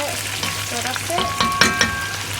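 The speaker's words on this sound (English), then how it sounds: "It's been 10 minutes since I've been frying the chicken" Chicken frying in a pan for a sweet potato leaves soup, giving a steady close sizzle with crackles and a few stirring clinks, continuous throughout with no voices.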